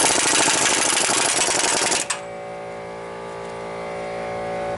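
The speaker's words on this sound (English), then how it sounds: "You can drive it on with an impact wrench, but use the impact wrench's lowest setting" Impact wrench on its lowest setting driving a CV axle nut down on a GMT-900 Chevy/GMC/Cadillac truck, a loud dense rattling burst for about two seconds that cuts off abruptly, leaving a quieter steady hum.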